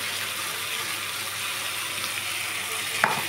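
Masala paste sizzling in a hot frying pan while cooking an egg chicken tarka, a steady soft hiss with a brief clatter near the end, no voices.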